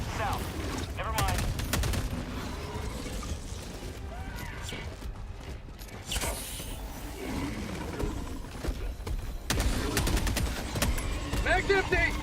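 Stalwart machine gun fire in the Helldivers 2 video game on the highest Helldive difficulty, bursts of rapid gunfire mixed with roaring creatures and loud in-game battle noise, continuing throughout.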